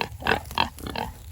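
Pigs on a farm in summer heat, near water pans and pools, give a few short nasal grunts and oinks in quick succession, close by and moderately loud, with no talking.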